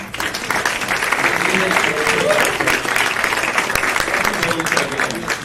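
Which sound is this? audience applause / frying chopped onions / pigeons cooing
audience applause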